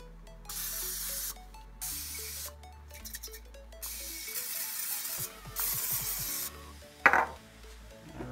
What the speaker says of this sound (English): Gotta make sure I spray it first.